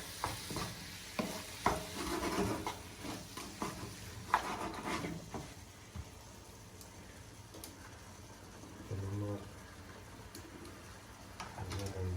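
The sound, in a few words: squid searing in a frying pan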